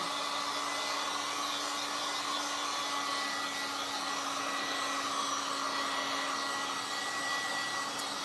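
A hair dryer drying paint on a Dollar Tree candlestick, a steady, loud, continuous whooshing blow with a faint motor hum that runs unchanged the whole time, with no talking.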